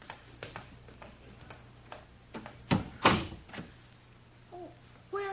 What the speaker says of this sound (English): I'll close the door after me.